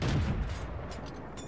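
A single M3 Grant tank cannon shot in a video game: a loud, close boom that bursts at once and fades into a rumbling tail over about a second.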